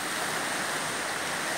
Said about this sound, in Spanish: este es el exuberante río Guatapurí, que baja limpio de la montaña